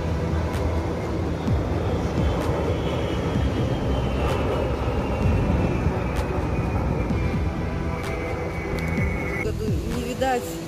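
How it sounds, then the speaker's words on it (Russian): A steady engine roar of an airplane flying past fast in an Independence Day flyover in Israel, a rising whine sweeping across, with people talking quietly in the background. "очень быстро летит самолет"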